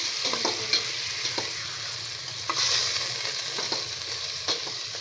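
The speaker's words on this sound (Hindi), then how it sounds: "अब मैं इसको थोड़ा सा चलाऊंगी" Minced meat and potato sizzle in a pan while being stirred, a continuous frying hiss broken by soft scraping strokes at an even pace, close and alone.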